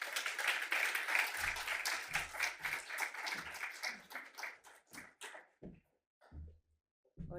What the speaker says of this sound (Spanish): Un aplauso entonces para Alejandra.